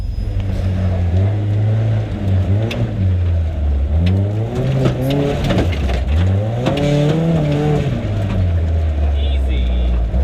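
A Tomcar TX 4x4 UTV in four-wheel drive and low gear climbs a steep off-road grade, its engine droning loud and close, the pitch rising and falling with throttle through the whole climb.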